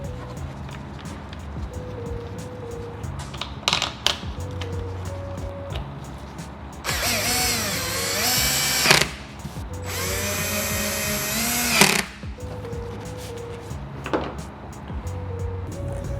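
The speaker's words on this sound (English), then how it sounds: "So now we can just insert these two screws, lock it down" A power driver spins screws in to secure a license plate light on a Ram 1500, giving two loud whirring bursts of several seconds each over a low background hum.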